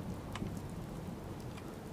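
Steady rain falls in the video game Fallout 4, a soft continuous hiss of drops with faint scattered patters, even and quiet throughout with no voices.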